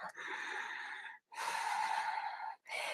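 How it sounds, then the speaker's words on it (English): Deep, audible breaths in and out during a children's yoga session, heard up close and alone, with two long breathy strokes and a shorter third. "See the belly lift up and down as you breathe in and out."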